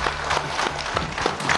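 Audience applause greets the next female guest on a Chinese TV matchmaking show, a steady dense clapping wash from a studio crowd that fills the short moment, with low music underneath.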